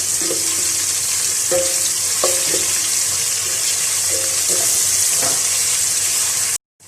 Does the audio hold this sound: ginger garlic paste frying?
yes